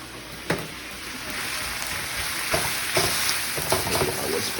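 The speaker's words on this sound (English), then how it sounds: "So we'll start cooking those noodles, stir frying them." Packaged noodles stir-frying in a hot pan give off a steady, close sizzle, with a few scraping stirs and clatters breaking through the crackle.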